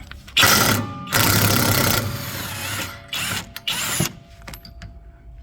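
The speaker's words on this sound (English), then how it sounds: "take a 13/16 or even a 21 to take the shock bolt out" A 13/16 or 21 mm socket on a power tool or wrench backing out the rear shock bolt of a 2008 Pontiac G6, several loud close bursts of whirring, rattling mechanism separated by short pauses, then faint clicks, no talk.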